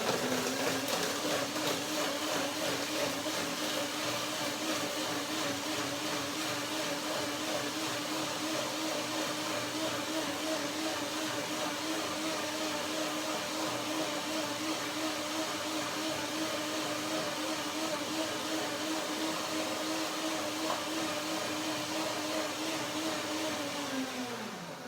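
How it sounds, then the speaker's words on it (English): A countertop blender whirs steadily, pulverizing cashews, dates and water into milk, a loud continuous motor drone that holds for about twenty seconds before winding down at the end. "So I put a little bit of water in there. And now I will blend it."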